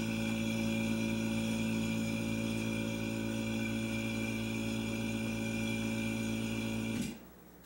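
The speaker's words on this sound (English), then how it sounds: "go ahead and shut the vacuum pump off and bleed the vacuum off the vacuum chamber" A vacuum pump on a degassing chamber for silver casting hums steadily and loudly, then shuts off abruptly near the end, leaving only a faint quiet tail.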